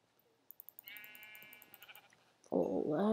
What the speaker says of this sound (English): Let's get the sheep for the night.